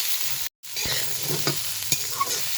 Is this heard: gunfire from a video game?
no